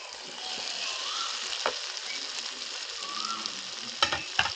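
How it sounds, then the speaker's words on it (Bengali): Fried pointed gourd and potato being cooked down in spice paste, a quiet steady sizzle with occasional spatula scrapes and a couple of sharper clatters near the end. "এবার মশলার সঙ্গে ভালো করে কষিয়ে নিচ্ছি।"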